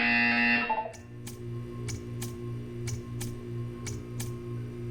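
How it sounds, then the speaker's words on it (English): In the video game Portal 2, a steady electronic tone cuts off, then a rhythmic series of short buzzing pulses repeats about twice a second over a constant low hum. "You will hear a buzzer"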